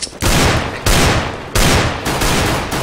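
Rapid bursts of video game gunfire, loud and close, in several sustained volleys with short gaps between them.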